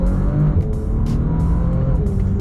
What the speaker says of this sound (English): Oh, it surges forwards with so much power, and it's so smooth.